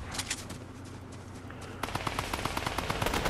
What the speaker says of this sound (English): Gunfire ahead of us, I think it's our bounty.